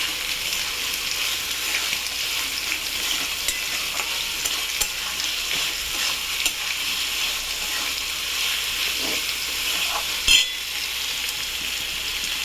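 Dried chillies fry in spiced oil for a potato and katla fish curry, a continuous close sizzle with light stirring and one sharp clink near the end, no talk.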